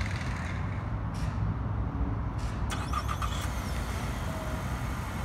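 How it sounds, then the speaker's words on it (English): A 2019 Nissan Altima SR is locked with a button press, giving a few brief, faint chirps over steady outdoor road and engine noise. "We're just gonna go ahead and lock the car, press this circle button right here."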